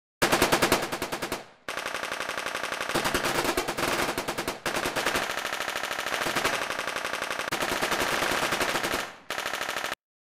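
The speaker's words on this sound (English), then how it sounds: "now I only have four machine guns playing" Several machine guns fire continuous rapid bursts as sound effects in an Unreal Engine game scene, loud and dense, with brief gaps between overlapping volleys.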